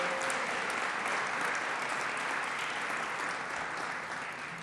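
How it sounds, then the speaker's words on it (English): A crowd at a casino and resort grand opening applauds officials, a continuous broad roar of clapping from many hands, fairly distant and steady, tapering slightly at the end. "So give them a big round of applause for their great work."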